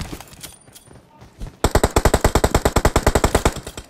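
Video game gunfire, starting with scattered shots and then a loud, rapid automatic burst of evenly spaced close shots lasting a couple of seconds.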